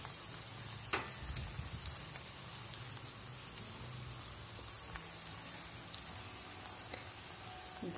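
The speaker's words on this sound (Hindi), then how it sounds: "तेल हमारा गर्म है, भिंडी इसको बीच में डाल देंगे फ्राई करने के लिए" Okra (bhindi) frying in hot oil over a low flame, a faint, steady crackling sizzle like light rain with a few sharper pops, no talking.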